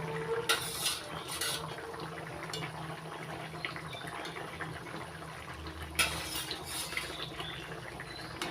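Hilsa fish curry with chichinga (snake gourd) gets stirred in a pan, with soft scraping and clinking of a utensil against the metal over a low simmering bubble, two brighter clinks standing out, fairly close and with no talking.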